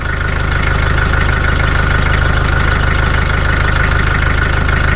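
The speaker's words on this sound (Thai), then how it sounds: "เสียงเครื่องยนต์ยังนิ่มอยู่นะ" A Toyota Hilux Mighty X pickup engine idles steadily and smoothly up close after sitting parked for several days, a low even rumble with a regular ticking pulse and no change in pace.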